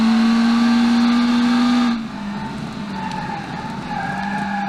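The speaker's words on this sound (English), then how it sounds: "That was a sick drift until I spun out." A car drifting and skidding in the racing game Automation, with loud continuous tire squeal and engine whine that cut off abruptly midway, followed by quieter rumbling engine and scrubbing tires.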